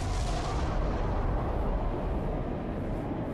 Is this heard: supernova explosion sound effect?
yes